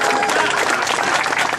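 Audience applause at a political event, a dense, steady clatter of many clapping hands that stays loud and even throughout, with no voices standing out.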